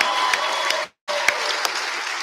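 A crowd gives staff a round of applause at a 2020 graduation ceremony, steady clapping broken by a brief dead gap midway before resuming at the same level.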